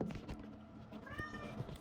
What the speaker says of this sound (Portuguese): Vocês vão ouvir obra e gato ao fundo